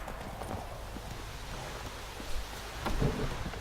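Horse hooves clip-clopping under a rider in the video game The Witcher 3, soft rhythmic thuds set against a steady rain-like ambient wash with a louder rumble near the end, no speech.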